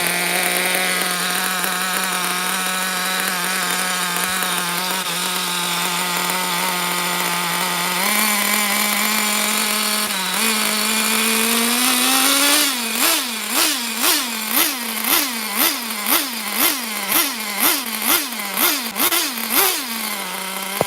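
A vintage Traxxas T-Maxx nitro RC engine with a 3.3 motor runs at a high, buzzy idle, then is blipped repeatedly at about half throttle in a quick, rhythmic series of loud, close revs.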